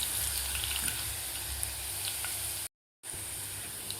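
Garlic sautéing in a pan for a Maharashtrian matki usal, a soft steady sizzle with faint crackles, briefly cut to silence before the frying hiss resumes.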